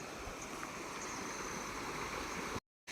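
Steady rushing water flowing close by during rain near a house surrounded by forest, a continuous broadband wash with no voices, briefly cutting to silence near the end.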